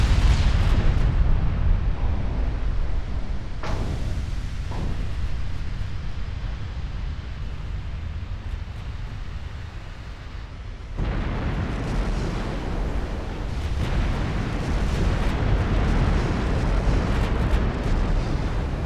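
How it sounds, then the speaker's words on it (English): A warship explodes in a flash fire in the naval battle game Ultimate Admiral Dreadnoughts, with a deep rumbling blast, a sharp crack near four seconds and sustained roaring fire and booms that swell again later. "And that is a flash fire. With one turret being sent airborne."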